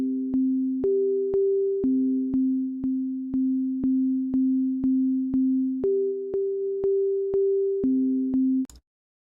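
A steady sine tone passes through an audio compressor switched between hard and soft knee, pulsing in a regular beat of short evenly spaced hits and shifting between two pitches, clean and alone, stopping abruptly.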